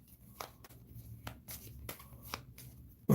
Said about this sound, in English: shuffling 4 cards kind of sucks